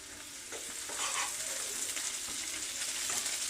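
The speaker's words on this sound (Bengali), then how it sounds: "পেঁয়াজ রসুনটা হালকা হালকা ভাজা হয়েছে, এর সাথে দিয়ে দেবো আমি আদা বাটা" Onion and garlic sizzle steadily in a hot pan with ginger paste added, a bright, continuous close frying hiss with light stirring and no talk, cooking the base for a Bengali butter crab.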